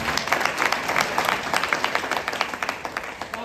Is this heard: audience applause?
yes